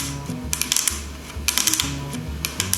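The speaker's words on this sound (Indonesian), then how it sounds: "Ketok-ketok meja." Fingernails tap on a tabletop in quick clustered bursts of sharp clicks, several knocks in a row with brief pauses between groups, close up over a steady low background hum.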